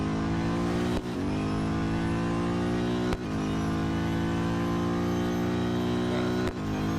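Race car engine in the Real Racing 3 mobile racing game, a steady loud synthetic drone held at high revs with brief dips at each gear change, no talk.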